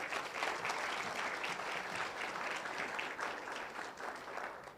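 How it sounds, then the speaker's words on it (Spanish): Faint but steady congregation applause during a church sermon, continuous dense clapping with no voices over it, heard from a distance. "Dele un aplauso a la actitud de David"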